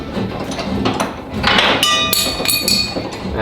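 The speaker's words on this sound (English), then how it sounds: "That's the retaining nut that just fell on the other side." While a rear shock bolt is worked out of a 2004 Ram 1500 4x4 truck, a metal retaining nut drops with bright clinking, ringing impacts after some scraping and rustling.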